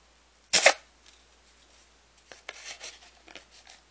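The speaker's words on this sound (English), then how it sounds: "Now I'm going to stab into that circle with the scissors." Scissors stabbing through a paper circle while making a photo holder, a single sharp crunchy puncture followed by quieter scattered rustling and snipping of paper, close and alone.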